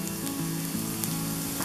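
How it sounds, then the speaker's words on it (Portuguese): Garlic sizzles steadily in a hot pan as it fries toward golden, a continuous close crackle with no talk, part of making a creamy shrimp dish served in a pumpkin. "eu vou esperar ele dar uma douradinha sem deixar queimar, para não amargar"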